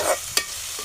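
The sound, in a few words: onion sautéing on a low flame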